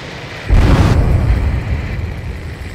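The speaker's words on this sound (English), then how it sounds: "A huge explosion just went off underwater." In the video game Ace Combat 7, a sudden deep boom of an underwater explosion erupts into a loud, rumbling blast that slowly fades under a steady low roar.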